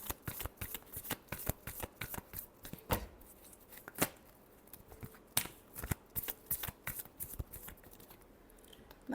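Tarot cards shuffled by hand in a steady run of crisp, riffling flicks and soft slaps, close and fairly quiet, with no voice over them.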